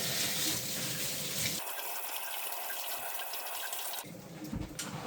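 Tap water runs into a sink in a dim cellar-like space, a steady broadband rush that changes character partway through as the flow shifts, then surges again near the end, with no talking.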